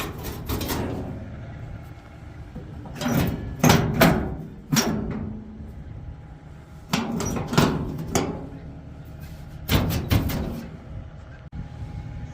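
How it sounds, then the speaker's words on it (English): Truck hood being unlatched and lifted off, with several loud thumps and clanks in clusters about every three seconds, close by. "I want to open the hood."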